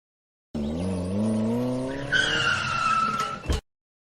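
A car accelerates hard with tires squealing and skidding, a rising engine roar joined midway by a high screech, loud and close, ending abruptly after about three seconds.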